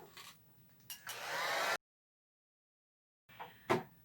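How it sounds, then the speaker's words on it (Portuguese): Hair dryer blowing to dry a first coat of paint on a painted piece, a steady whooshing roar that switches on after a few small handling noises, cuts to silence, then brief clunks follow. "eu uso um secador de cabelos pra secar"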